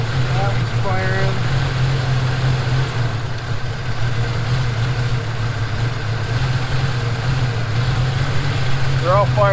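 A 1993 Jeep XJ with an injector driver fault code idles steadily with all cylinders firing, giving a loud, even, low drone throughout, with a person speaking over it.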